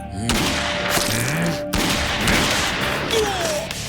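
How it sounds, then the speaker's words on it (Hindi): Three loud sharp pistol shots crack over a busy, noisy background with music-like tones, a few distinct bursts within a few seconds. "उसने अपनी पिस्तौल से 3 गोलियां एहसान उल्ला के सीने में ताक दी"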